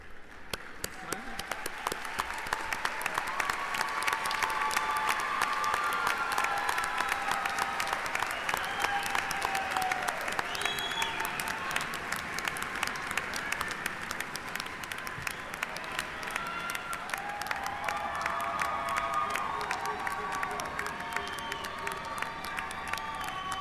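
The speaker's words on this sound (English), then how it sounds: "A round of applause." A commencement crowd applauds after graduates' names are read, a long, full wash of clapping with some cheering and voices mixed in, swelling early and staying loud for over twenty seconds.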